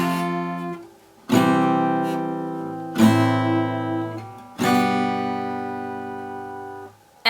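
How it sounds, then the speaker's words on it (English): Guitar strummed once per chord in a song, four full chords each ringing out for a second or two before the next strum, close and clear with no voice. "do 1 strum per each chord just to kind of lay down the harmony"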